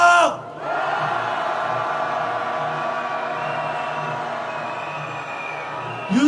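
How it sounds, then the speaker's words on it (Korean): A large street crowd at a candlelight rally in Seoul calling for President Yoon Suk-yeol's impeachment roars and chants in a sustained mass shout, steady and loud for several seconds, with a brief dip at the start and a fresh swell at the end. "윤석열 탄핵의 함성"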